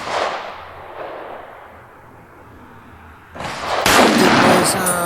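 A CMP M1A rifle fitted with a Norwegian barrel fires a single loud, sharp report partway through, followed by a ringing, echoing decay outdoors after a noisy lead-in.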